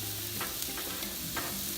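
A lamb omelette sizzles steadily in a hot pan, a continuous close frying hiss with a few soft scrapes and taps of stirring, and no voices.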